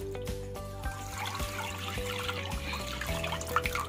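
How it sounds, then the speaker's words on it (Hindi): Boiled, cooled milk, a little over half a kilo, pours into a kadai with a steady close trickling, liquid splash over a faint background hum. "हम इसमें दूध डालेंगे कढ़ाई में"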